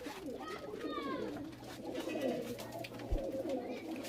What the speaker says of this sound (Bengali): এই দেখুন ওনার মুখো পায়রা দেখাচ্ছে